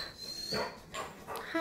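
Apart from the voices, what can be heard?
dog whimpering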